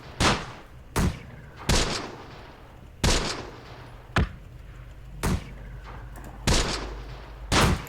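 Mortar fire in Close Combat: The Bloody First during a night battle: about eight sharp, loud booming blasts at uneven intervals, each decaying quickly over a low rumbling background, with no talk.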